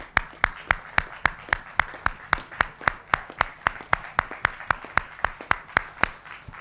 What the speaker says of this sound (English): Let's clap for our audience